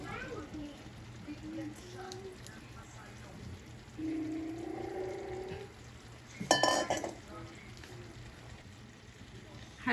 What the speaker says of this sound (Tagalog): Haluin ko lang mga kabeshi para maluto din po itong gulay.